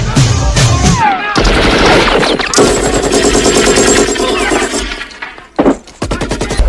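Sustained machine-gun fire in the 1985 action film Commando as enemies riddle a warehouse, loud dense bursts mixed with breaking and crashing debris, ending in a brief lull before more shots.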